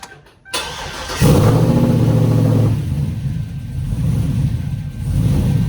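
Chevrolet TrailBlazer SS with swapped heads and cam, its engine cranking and catching after a brief silence, then a loud droning rev that drops back and surges unevenly at idle.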